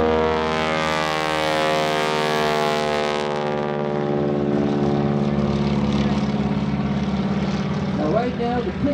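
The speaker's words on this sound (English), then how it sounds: "Propeller is flapping," Biplane propeller engine droning loudly at an airshow during a wingwalking routine, a steady multi-toned hum whose pitch shifts as the engine changes, continuous and close throughout.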